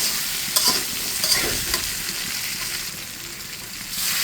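Ground spices sautéed with water in a pan for a Bengali potato and hilsa curry, a loud hissing sizzle with a few stirring clatters early on, continuous and close, no voices.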